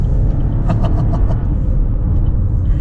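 A small SUV's engine rumbles loudly and steadily as the car accelerates, heard from inside the cabin with a constant low drone.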